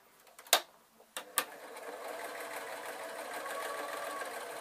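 Sewing machine stitching a small piece of worn fabric on a zebra draft excluder, starting with a few sharp clicks and then settling into a steady, quiet, close whir.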